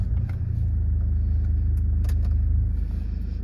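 Jaguar XF 2.2 diesel engine at idle just after starting, a deep steady low rumble with a pulsing beat from inside the car, with a few faint clicks over it and no talking.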